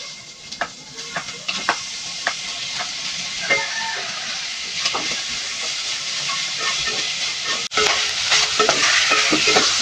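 Tenderized beef for bistek tagalog fries in a pan. A loud, close sizzle and hiss runs under repeated scraping clacks of stirring, with a brief cut near the end before the sizzle swells again.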